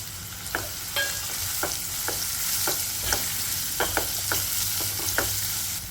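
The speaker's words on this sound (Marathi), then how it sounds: "कांद्याला आपण छान फ्राय होऊ देऊया ट्रान्सपरंट होऊ तर आपण त्याला फ्राय करणार आहोत" Finely chopped onion fries in hot oil with golden-browned garlic for baingan bharta, giving a steady close sizzle broken by regular scraping stirs of the spoon, with no voices.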